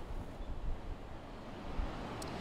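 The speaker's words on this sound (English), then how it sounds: "Awfully windy out here, Lee, but no rain to speak of." Strong wind buffets the microphone at Oleander Point in Cole Park on Corpus Christi Bay ahead of a tropical storm, a steady, loud rumbling roar with gusts swelling and easing throughout, with no voices.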